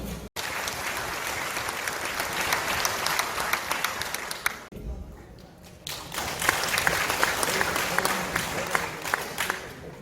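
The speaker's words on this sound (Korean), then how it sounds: "큰 박수 부탁드리겠습니다." A crowd at a ginseng expo launch ceremony in Yeongju applauds as a speaker is invited up. Sustained clapping dips briefly partway through, then swells again, with some crowd murmur underneath.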